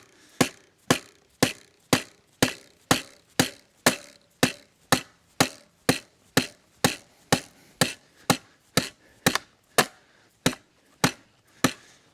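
A long run of sharp, regular hammer strikes driving a Microtech Combat Troodon knife blade in like a nail, over twenty evenly paced blows, close and loud with no talking.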